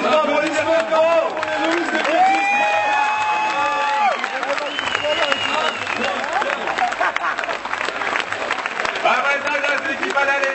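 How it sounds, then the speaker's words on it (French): A large crowd applauds and cheers for the Swedish team at a tournament, a dense steady roar of clapping and shouts with whistles and raised voices over it throughout. "Applaudissements pour les Suédois."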